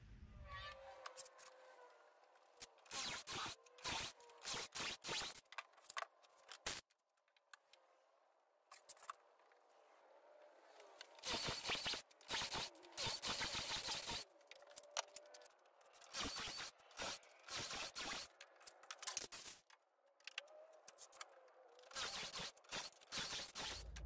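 A Jessem doweling jig guides a drill boring dowel holes into face frame stiles. There are repeated short, loud, gritty bursts of drilling separated by quiet pauses, with a faint steady motor whine underneath.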